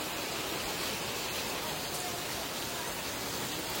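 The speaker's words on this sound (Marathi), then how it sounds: "पण पाणी बघा ना किती बघा खवळले पाणी एकदम" Heavy rain and rushing, turbulent water produce a dense, constant roar with no breaks, loud and enveloping, with nothing standing out above it.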